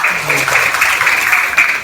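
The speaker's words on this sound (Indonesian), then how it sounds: "Tepuk tangan buat Nazila." A class of students applauding a classmate named Nazila, a loud, dense burst of clapping from many hands nearby, with a voice heard faintly at the start.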